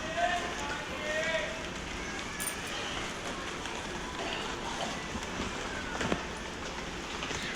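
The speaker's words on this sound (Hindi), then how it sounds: "ये देखिए बारिश हो रही है" Rain falling steadily outdoors in a village, a dense, even hiss throughout with faint background voices and a few small knocks.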